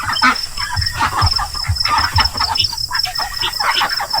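Chickens on a farm cluck steadily and close by in overlapping bursts, with a rooster-like call among them over a constant high insect-like hum.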